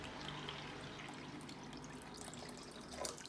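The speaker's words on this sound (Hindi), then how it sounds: "ओके, हमने इसको थोड़ा सा पानी दिया" Lukewarm water poured onto yeast and sugar for gluten-free pan pizza dough, making a soft, steady trickling splash throughout, with no talking.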